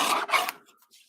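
A paper trimmer slices through a card in one short, close rasping stroke, then fades to near silence.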